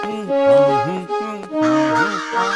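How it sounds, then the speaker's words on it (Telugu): Cartoon crows caw harshly as they attack, several loud overlapping calls close together in a short burst. "కాకులు దాడి చేస్తున్నా ఏమిటి?"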